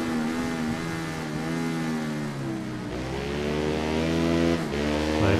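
A Ducati Panigale superbike engine in the racing game RIDE 3 screams through high revs with climbing and falling harmonic pitch, a sustained loud whine that dips briefly near the end before surging again.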